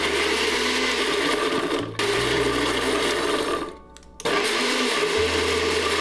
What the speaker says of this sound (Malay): Sekarang kita kisar kasar semua ni.